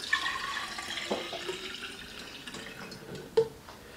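500 ml of water poured into a jug, a light trickling splash with drips and a small clunk near the end, fairly quiet and close.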